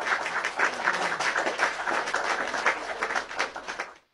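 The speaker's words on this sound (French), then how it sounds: "On applaudit pour ce génie." A crowd applauding, a steady, fairly faint wash of many hands clapping that carries on evenly for several seconds before cutting off abruptly.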